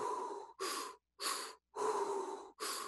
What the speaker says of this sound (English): I'll bring in the breath, belly, chest, exhale.